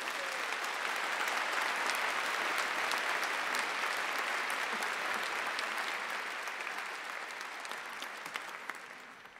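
A large graduation ceremony audience applauds graduates in a continuous, even roar of clapping that fades slightly toward the end, heard from a distance in a big hall.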